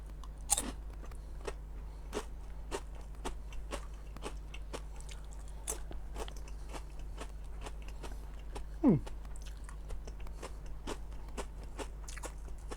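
Someone chews a crunchy fish skin snack close up, giving repeated short crisp crunches in an irregular rhythm over a low steady hum.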